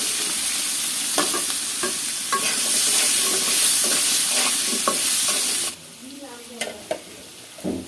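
Egg and potato fry in a pan with a loud, steady close-up sizzle and spatula scrapes, then the sizzle drops sharply, leaving a quieter hiss with a few clattering knocks.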